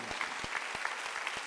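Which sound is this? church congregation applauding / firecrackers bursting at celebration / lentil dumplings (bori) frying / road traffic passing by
church congregation applauding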